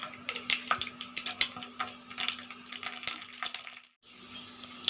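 Mustard seeds with chana dal and urad dal frying in hot oil in a pan, a steady crackling sizzle with sharp pops scattered throughout, briefly dropping out near the end.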